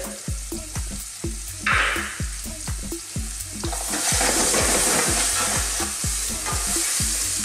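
Finely chopped onions and garlic frying in a pan, with loud, close, regular scraping strokes of stirring over a sizzle that grows fuller and brighter in the second half, no voices.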